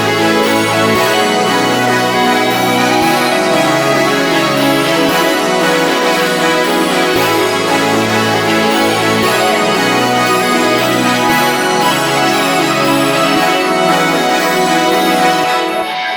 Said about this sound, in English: So the full melody in the verse part sounds like this.